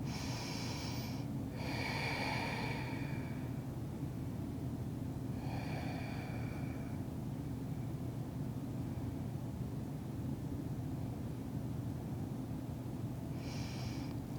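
Slow, deep breaths during a vinyasa yoga class, a few long airy inhales and exhales spaced several seconds apart over a constant low hum of room noise, no talking.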